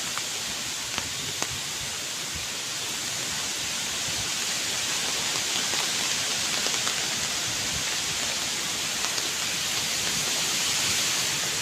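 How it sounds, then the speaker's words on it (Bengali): Heavy rain pours steadily during Cyclone Remal, a dense continuous wash of loud noise with gusty wind swelling slightly toward the end. "অনেক জোরে জোরে হচ্ছে বৃষ্টি হচ্ছে দমকা হাওয়া হচ্ছে"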